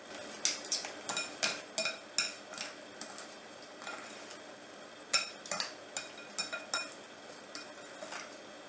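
A spoon clinks and scrapes against a jar or bowl while homemade face mask ingredients are mixed together, a quick series of sharp close taps in two bursts with brief pauses, no voices.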